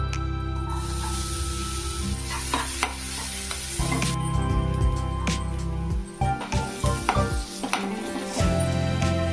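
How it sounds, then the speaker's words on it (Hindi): Onion, garlic and ginger fry in butter in a kadhai, giving a loud, steady sizzle and hiss with scraping stirs and clinks of a spoon against the pan throughout. "और अब एक कढ़ाई में बटर डाल के प्याज लहसुन अदरक वगैरह फिर से फ्राई कर"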